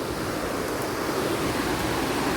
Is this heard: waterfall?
yes